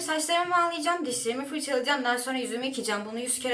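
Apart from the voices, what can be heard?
None of the usual background noises is heard.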